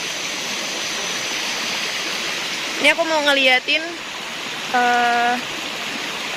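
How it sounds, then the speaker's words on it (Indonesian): Steady broadband rush of a waterfall and stream at the edge of a Sumatran mountain forest fills the whole stretch, with someone speaking briefly over it midway. "perbatasan air terjun pertama dengan air terjun kedua"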